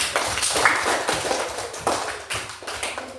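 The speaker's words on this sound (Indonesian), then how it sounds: "Beri tepuk tangan untuk kelompok 1." Applause from a classroom of students for a presenting group: a short burst of scattered, uneven claps close to the microphone, fading and flaring over a few seconds.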